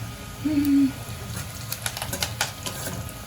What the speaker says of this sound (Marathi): तडतडला कढीपत्ता